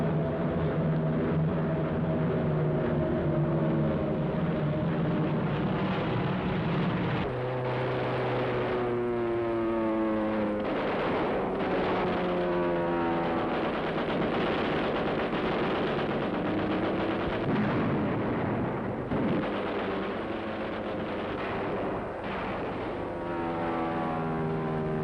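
Typhoon rocket-firing fighter aircraft from the Second World War roar past with droning propeller engines, a loud sustained rumble with rising and falling pitch sweeps as planes pass, punctuated by bursts resembling rapid gunfire.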